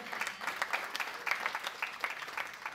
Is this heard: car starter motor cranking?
no